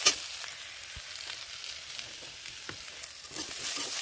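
Aubergine, potato, kohlrabi and onion frying in a pan sizzle softly and steadily at close range, with a few light scrapes of stirring and no voices.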